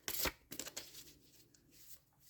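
Playing cards being shuffled vertically by hand, a quick riffling burst followed by a few softer, shorter flutters, close and fairly quiet with no voices.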